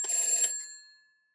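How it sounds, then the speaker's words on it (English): An electromechanical telephone bell rings in one short burst of about half a second, then its metallic ring decays away into silence. "the called phone starts ringing"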